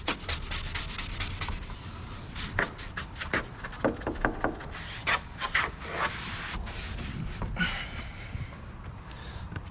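A 2017 Chevy Corvette Grand Sport window gets a firm scrub before tinting, with repeated rough rubbing strokes coming in uneven bursts, close and fairly loud, and no talking.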